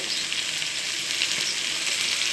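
Masala with turmeric sizzles steadily in hot oil for a mackerel dish, a bright continuous frying hiss, close and even in level, with no voices.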